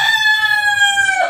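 A rooster crows loud and close in one sustained, drawn-out call that bends downward at the end, heard alone over a faint background.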